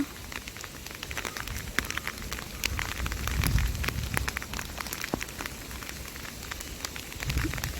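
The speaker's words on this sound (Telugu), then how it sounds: "వర్షం అయితే ఫుల్గా పడుతుంది" Heavy rain pours steadily, a dense hiss of drops with sharp close splatters and a low rumble swelling midway.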